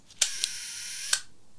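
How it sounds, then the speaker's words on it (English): Mechanical shutter on a 4x5 large format camera lens being cocked and clicked, with sharp close metallic snaps at the start and again about a second later, and a steady whirring hum between them. "So if I cock the lens,"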